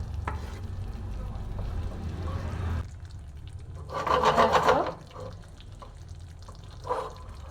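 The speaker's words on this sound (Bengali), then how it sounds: "আমি আরেকটুখানি আঁচ মানে ফ্লেমটা বাড়িয়ে কমিয়ে ফুটিয়ে নামিয়ে নেব" Prawn curry with mustard and raw tomato bubbling in a pan over adjustable flame, with a steady low simmering hiss and a brief louder burst of sizzling and stirring midway.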